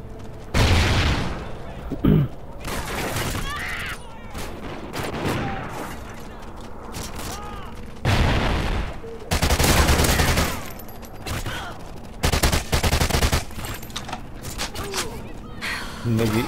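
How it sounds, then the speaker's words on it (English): Dense gunfire in Call of Duty Ghosts on PS3: repeated bursts of automatic fire and heavy booms come in clusters across the stretch, loud and close, with a player talking over the battle at times. "I'm getting shot from people I can't even see"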